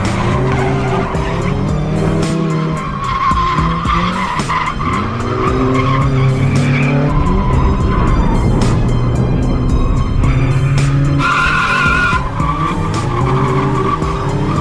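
A Ford Ranger Prerunner truck drifts with loud, sustained tire squeal and skidding over a roaring, revving engine, continuous and close throughout with no talking.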